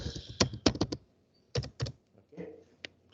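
Keys on a computer keyboard clack as a short command is typed at a command prompt, two quick clusters of close, crisp taps separated by a pause, with a few softer strokes after.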